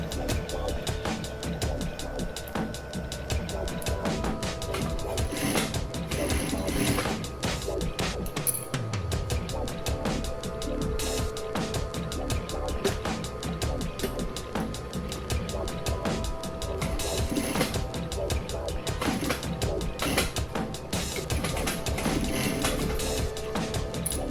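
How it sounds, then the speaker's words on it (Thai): A sewing machine stitches a homemade fabric mask holder with a rapid, continuous mechanical chatter, close and steady, briefly pausing and resuming, with no talking. "เย็บเสร็จแล้วนะคะ"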